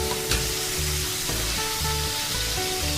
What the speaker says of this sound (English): here you can see we're just browning this really fast, like hand sear